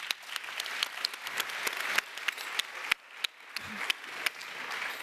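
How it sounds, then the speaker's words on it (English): A live talk audience on the automotive industry applauds a Mercedes-Benz CEO being introduced, with soft, moderately distant clapping and a few sharper individual claps standing out, no voices. "Your applause."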